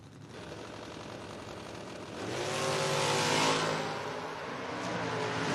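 Drag racing cars launch at a Door Wars event, one of them a Camaro; engines idle steadily, then surge into a loud, rising roar around the midpoint that holds and gradually eases off.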